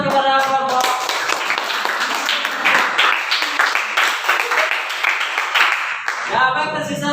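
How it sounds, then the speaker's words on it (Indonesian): A classroom audience claps for a presenting group during a teaching performance assessment, with loud, dense, close applause that starts after a brief spoken line and tapers back into talk at the end. "Berikan tepuk tangan kepada kelompok."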